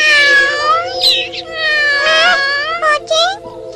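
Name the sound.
storyteller imitating a cat meowing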